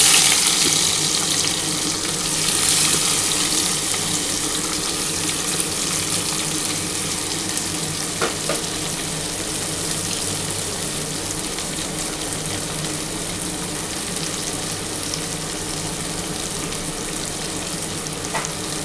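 Two chopped onions fry in hot oil, giving a loud, steady, close sizzle that stays even throughout with faint occasional clicks and no talk.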